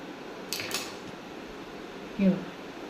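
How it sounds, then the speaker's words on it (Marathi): Stuffed idli being broken apart and cut on a plate, with a few brief scraping clinks of utensil against the plate early on and a louder tap near the end, close and fairly quiet. "मी आता ही इडली आधी तोडून दाखवते"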